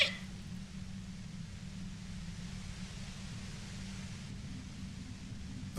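Steady, overwhelming white-noise hiss in the video game Disco Elysium, growing harsher near a compressor, a dense broadband wash with a heavy low rumble underneath, continuous and unbroken with no voices.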